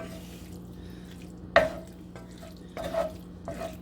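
Ingredients are stirred in a pot on a stove, with a few sharp clinks and wet scrapes spaced over a quiet hum.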